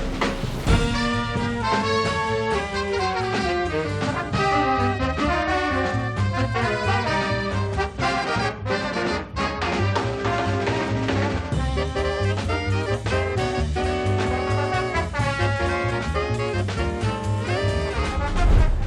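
A jazz drummer playing within a busy small-group recording, with crisp syncopated snare accents and cymbal work running steadily throughout, mixed with horns and bass at full volume.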